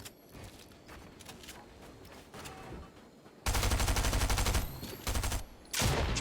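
Pump shotgun fire in a video game comes as loud bursts of rapid repeated shots. They arrive in two heavy volleys after a stretch of quieter clicks and mechanical clatter, close and loud.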